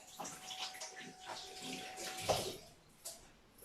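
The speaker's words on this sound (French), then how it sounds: "Là, je vais juste me rincer un petit peu les menottes." Tap water running while hands are rinsed in a kitchen during baking, a soft steady splash with a few louder spatters, fairly quiet.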